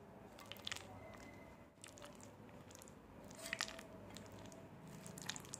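Citron pickle pieces are mixed with chili powder at home, producing quiet, intermittent wet squishes and soft crunches against a hushed background.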